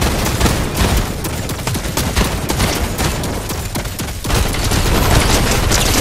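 Rapid gunfire in the video game Fortnite: dense, continuous bursts of loud shots crackling close up, rising in intensity near the end with no pause.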